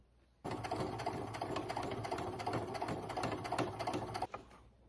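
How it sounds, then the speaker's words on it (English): A sewing machine stitches a straight seam on a wallet, starting abruptly and running in a fast, even mechanical chatter up close for about four seconds before stopping cleanly. "So we're gonna sew a straight line here"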